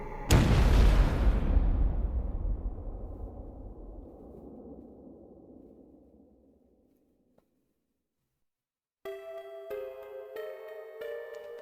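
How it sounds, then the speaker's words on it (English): A massive fiery explosion in the video game 428: Shibuya Scramble bursts out loud and close, then rumbles and decays slowly for several seconds into silence before a sustained synth chord enters. "Suddenly, a massive fiery blast knocked him from his feet."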